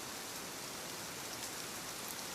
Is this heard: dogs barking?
no